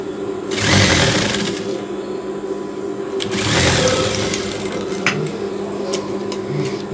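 Sewing machine stitching a pair of shorts, running in two loud bursts of rapid whirring with a softer steady hum between them, close by and with no one talking.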